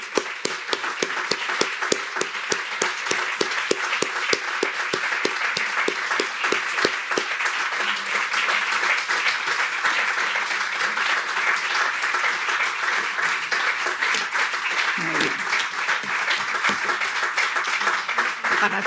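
Long, sustained applause from an audience at a talk or presentation, dense steady clapping filling the whole stretch without letting up, no voices speaking over it.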